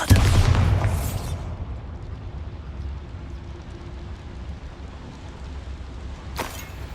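A Bombarda blasting spell goes off inside a small mine in Hogwarts Legacy: one loud boom at the start that decays into a low lingering rumble, with a brief sharp crack near the end.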